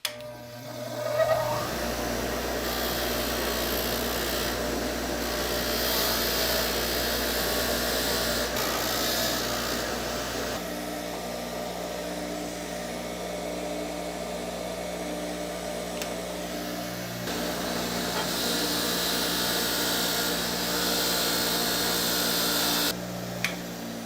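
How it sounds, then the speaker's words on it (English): A bench grinder's wire wheel cleaning up the head of an old vintage hammer during a restoration: a steady, loud whirring motor drone with abrasive scrubbing that shifts in tone as the piece is pressed on, running throughout without talk. "with just a little bit of work on that wire wheel, you can really clean these beautiful old vintage tools up"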